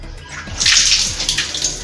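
Water gushes from a tap with a bright splashing hiss that starts abruptly and keeps running steadily.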